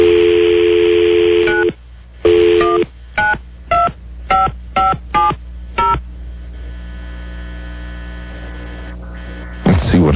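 A telephone's steady dial tone cuts off, followed by a string of about nine short, evenly spaced touch-tone beeps as a number is dialed, over a low mains hum, with a brief sound at the end.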